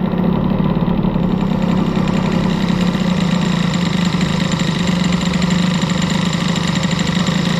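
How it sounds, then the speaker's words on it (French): A Peugeot Fox moped engine idles high and steady, a loud continuous drone close by that stays constant throughout, with no talk. "maintenant le problème c'est que le ralenti est vachement haut"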